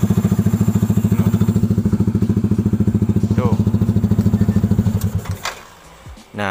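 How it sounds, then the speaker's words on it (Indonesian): A Yamaha NMAX scooter engine runs with a steady, pulsing idle close by, then cuts off and goes quiet toward the end, with brief clatter and a short spoken word over it. "tinggal pencet ini langsung hidup motornya"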